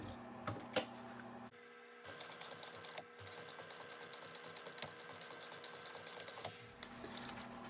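A sewing machine stitches a line back and forth across a bag strap, its motor whirring in bursts with short pauses and small clicks between runs, close and fairly quiet.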